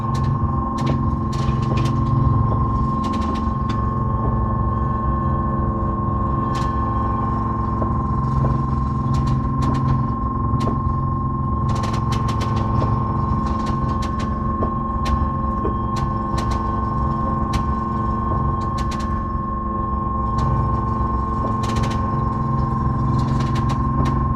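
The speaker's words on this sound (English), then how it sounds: "I always sleep good when the engine's running." A boat engine idles steadily aboard a vessel steaming in Alaska, a continuous low drone with a steady mid hum that stays loud and unbroken throughout, with faint ticks and clicks over the top and no speech.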